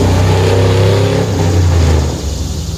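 A car engine drones loudly as it passes close by near a creek, holding a steady hum before easing off, with no voices.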